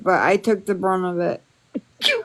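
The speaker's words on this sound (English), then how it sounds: "was a cute little sneeze right there" A person talks briefly, then lets out a quick, small sneeze close by, followed by a short sharp burst.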